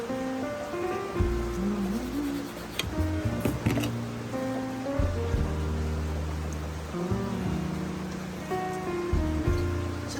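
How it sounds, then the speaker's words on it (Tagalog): Heavy rain falls steadily as a constant wash behind louder tonal sounds and clatter, on a rainy day while chorizo sopas is being cooked. "malakas ang ulan"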